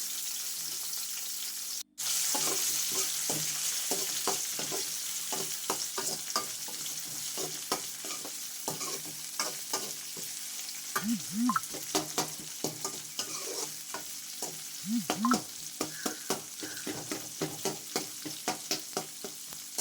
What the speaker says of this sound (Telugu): గరిటెతో మిక్స్ చేస్తూ కలుపుకోవాలి.